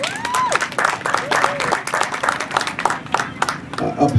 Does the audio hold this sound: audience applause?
yes